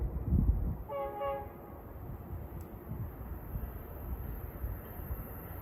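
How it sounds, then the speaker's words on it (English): An Amtrak train approaches a station platform, sounding one short horn blast early on, followed by a steady low rumble of the train at moderate distance. "Train approaching. Please remain behind the yellow safety strip."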